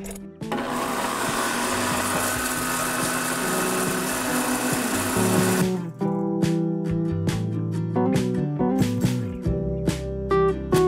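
Blender whirring loudly and steadily while mixing homemade mayonnaise as oil is drizzled in, then dropping to a lower, pulsing motor hum with clicks near the end.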